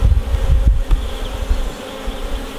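Honey bees buzzing at an open hive during a brood frame inspection, a dense close drone with brief bumps and knocks from handling, no talk.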